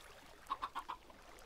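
Baby chickens in a video game cluck four times in quick, even succession, short and quiet over a faint background hum.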